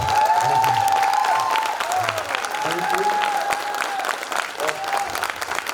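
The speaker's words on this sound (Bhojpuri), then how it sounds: "तो एक बार ऐसी ताली बजाओ कि गर्मी पैदा हो जाए" Sustained applause and some cheering from a conference audience, loud at first and gradually thinning out, with a voice carrying over the clapping.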